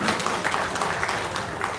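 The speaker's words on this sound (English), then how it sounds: "So to give a round of applause to His Excellency once again" A university hall audience applauds a dignitary in a dense, even wash of clapping that holds at moderate loudness throughout the brief moment.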